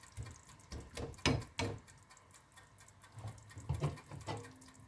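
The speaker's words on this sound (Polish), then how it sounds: "doleję ponownie 100 ml wody" Water poured into a pot of homemade vegetable broth, a running liquid splash with a few louder gushes and drips, fairly close and alone with no voices.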